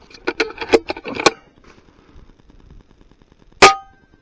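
An FX Impact .22 air gun firing at a target 525 yards away: a cluster of sharp cracking pops comes first, and after a quiet gap a single loud crack rings briefly.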